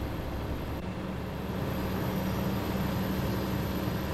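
An International Eagle 9400 truck engine in Euro Truck Simulator, running as a steady low diesel drone with a constant hum, loud and continuous, no voices.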